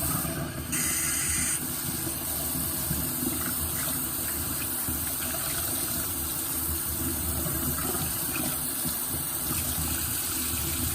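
Running tap water gushes in a constant, even hiss as a bundle of mohair is rinsed beneath the stream, with no pauses and no voices over it.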